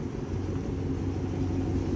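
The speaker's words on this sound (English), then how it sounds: "I hear my car on right now. Listen." Dodge Challenger R/T engine idling, a steady low rumble that holds even and continuous throughout, fairly close and with no voices over it.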